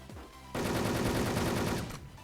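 Rapid automatic gunfire in the online shooter Wolfteam, a dense continuous burst of shots that starts abruptly, runs loud for about a second and a half, then cuts off, with no voices.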